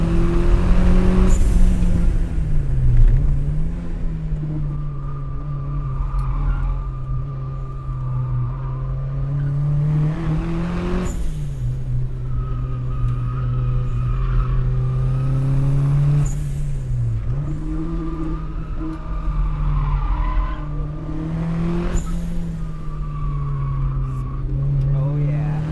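A budget turbocharged Mazda Miata with 216,000 miles lapping a race track, its engine droning and rising through gears with sharp shift dips and tire squeal, heard from inside the car with occasional talk over the noise.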